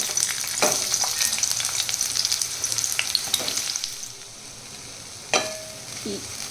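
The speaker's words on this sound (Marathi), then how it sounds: "आपण याच्यामध्ये आता कांदा छान मस्त फ्राय करून घेणार आहोत" Chopped onion sizzles in half a spoon of oil in a pan, a steady crackling hiss close up. A few clinks and stirring scrapes come through, and the frying eases a little toward the end.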